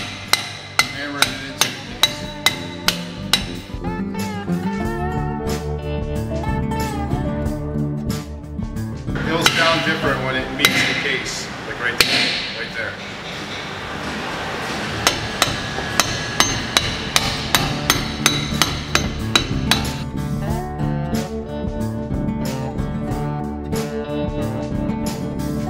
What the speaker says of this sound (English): I just put the race in and we're about to tap it in